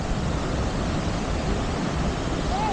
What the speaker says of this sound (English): Yeah, this is the waterfalls I was talking about. It's so noisy.